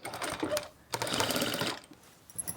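Sewing machine stitching the side seam of the main fabric while setting an invisible zip, in two close, steady bursts of motor whirr with a short pause between them.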